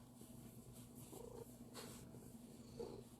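A house cat purrs close by in a quiet room, a soft, steady low rumble with faint breathy pulses and no voices over it.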